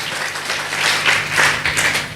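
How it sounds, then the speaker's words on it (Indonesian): An audience claps for Kang Indra at a Hari Santri Nasional 2025 talk show, a dense, steady patter of many hands running for about two seconds without voices over it. "Tepuk tangan dulu untuk Kang Indra"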